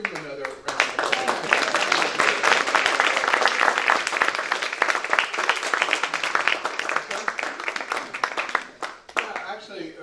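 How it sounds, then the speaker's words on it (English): A room full of people applauds after a prayer at a local gathering, dense steady clapping that carries for most of the ten seconds before thinning out near the end. "Let's give him another round of applause."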